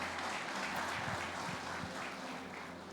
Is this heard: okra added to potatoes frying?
no